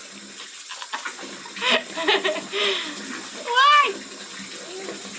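Water runs from a tap in a quiet room as a kitten paws at the stream, with soft splashes and a brief high meow-like cry; a voice speaks softly now and then.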